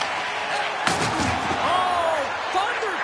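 An ice hockey body check knocks a player off the puck, a sudden heavy thud against the boards amid arena crowd noise, with a commentator talking throughout.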